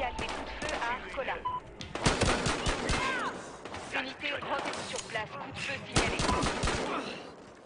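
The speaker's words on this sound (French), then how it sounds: "13, signale des coups de feu à Arcola" Sharp bursts of gunfire in the police game Battlefield Hardline, rapid cracks in clusters over several seconds, mixed with voices and game sounds.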